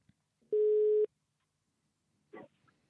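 A single steady telephone tone sounds for about half a second as a call connects, followed by a brief burst of voice-like line noise, with near silence around it.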